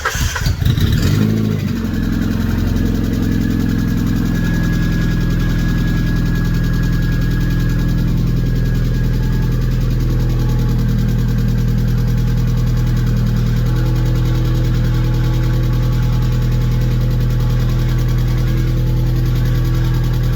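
An Alfa Romeo 155 engine cranks and catches, then runs loud and raw at a steady idle with no exhaust fitted, a harsh, unmuffled rumble throughout.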